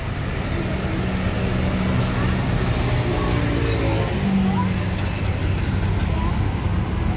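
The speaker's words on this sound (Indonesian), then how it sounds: "Banyak bus-bus melintas." Buses and other traffic roll past on a road, a continuous rumbling wash of engines and tyre noise with a few louder swells as vehicles go by.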